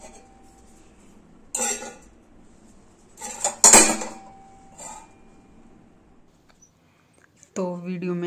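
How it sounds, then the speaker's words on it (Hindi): Brass utensils being taken out of a cupboard clink and clatter in a few separate metallic bursts, with quieter handling in between and a voice near the end. "यहाँ पे अब सारे बर्तन अलमीरा में से भी निकाल रही हूँ"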